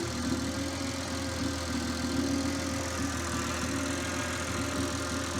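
A car engine idles with a steady, even hum and faint rhythmic knock, continuous and moderately quiet throughout.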